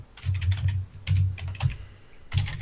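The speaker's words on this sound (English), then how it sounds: "Are you typing the website or?" Typing on a computer keyboard, with quick bursts of clicking keystrokes in uneven clusters separated by short pauses, close and clear, with no talking.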